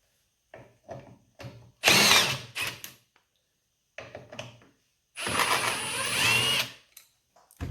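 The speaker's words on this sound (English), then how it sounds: "We're going to take a T30 Torx and remove the 2 bolts beneath it." Power driver with a T30 Torx bit backing out two bolts on an Arctic Cat 500 four-wheeler speedometer housing, short close bursts of high whirring separated by silences and small clicks, two longer runs standing out.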